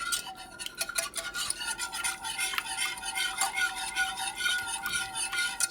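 Utensil stirring creamed dried beef in a pan, continuous close scraping and soft clinks with an uneven rhythm, fairly quiet, no talk.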